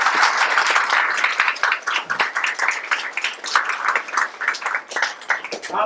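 An audience claps after a Hindi stage play performance, a loose, uneven patter of hands that swells and dips in waves, moderately loud and unaccompanied.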